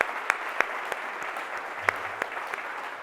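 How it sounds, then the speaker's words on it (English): A modest room of listeners at an AI startup panel claps, a light, continuous patter of applause with a few sharp, close claps standing out, and a brief low voice briefly underneath. "Let's give them a round of applause."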